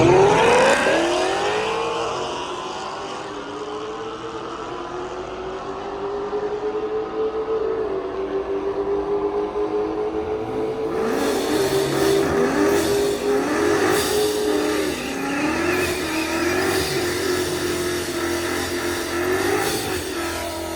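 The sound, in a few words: Procharger D1X Mustang accelerating on a drag strip pass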